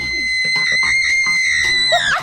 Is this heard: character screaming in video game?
yes